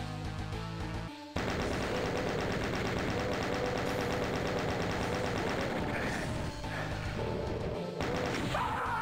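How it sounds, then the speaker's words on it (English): Chain gun blasts steadily in Doom's Plutonia Experiment, a loud, relentless stream of rapid shots that runs almost nonstop with only brief breaks. "Let's get out the chain gun."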